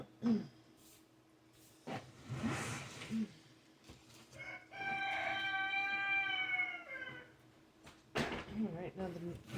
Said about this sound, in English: now the rooster wants to be wicked noisy.